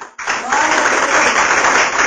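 Congregation applauding during a Portuguese-language church sermon, a dense, steady wash of clapping that swells in after a brief pause and holds loud to the end.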